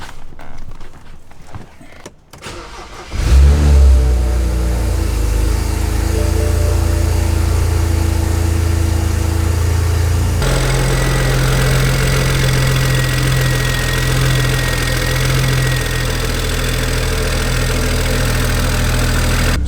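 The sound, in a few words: BMW car engine starting up and idling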